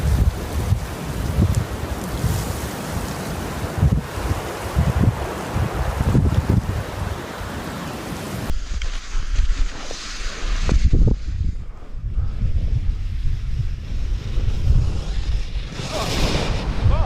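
Strong stormy wind roars in a constant buffeting rush over the microphone, mixed with the crash of ocean waves, loud and sustained throughout.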